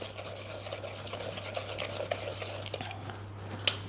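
Creamed butter and sugar for madeleine batter are mixed in a bowl, producing a soft, steady, wet stirring and swishing sound at close range with faint clicks and no talking.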